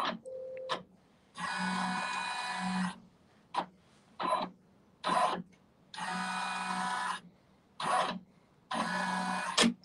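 An embroidery machine runs a trace of a 3D foam hat design, moving in short mechanical bursts of whirring and buzzing separated by brief pauses, close and clear with no talking.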